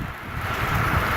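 Wind gusts outdoors beside a Blackstone griddle, a steady close rushing blow across the microphone that swells slightly, with no voices.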